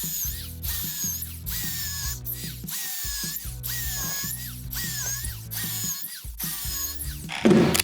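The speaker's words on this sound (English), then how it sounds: "I am going to go ahead and throw some screw or pocket holes in" A power drill bores pocket holes into lumber for a table build, running in about eight repeated bursts with brief pauses between them. Each burst is loud and close, and it ends with a short rattling clatter.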